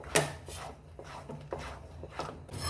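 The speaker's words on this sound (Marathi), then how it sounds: "याला अगदी ढवळत राहायचं, कंटिन्यू ढवळत राहायचं. छान याला शिजवून घ्यायचं." A spoon scrapes and rubs through thick grape sweet batter cooking in a pan on a low flame, with soft, quiet strokes repeating about every half second.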